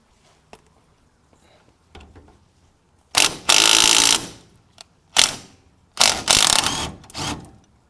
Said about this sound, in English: I could really easily take this off with a impact